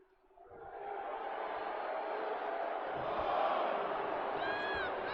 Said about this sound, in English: And look at the crowd acknowledging their tribal chief, Paul Heyman.